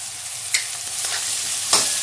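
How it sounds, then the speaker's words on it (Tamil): Chopped vegetables sauté in a pan with salt, turmeric and chilli powder for masala noodles, giving a close, steady sizzle and frying hiss with a couple of sharp spoon-stirring clicks, no voices. "உப்பு, மஞ்சள் பொடி, மிளகா பொடி எல்லாத்தையும் சேர்த்து வதக்கணும்"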